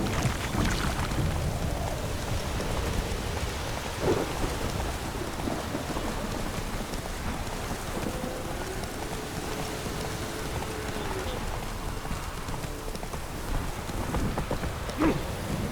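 Rain and rolling thunder in the video game Witcher 3: steady hissing rainfall throughout, with low thunder rumbles and a couple of sharp cracks, including one near the end.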